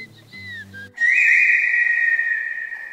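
A professional whistler gives a few short sliding whistled notes over a low hum, then holds a single loud, steady whistled tone for about two seconds that fades slightly toward the end.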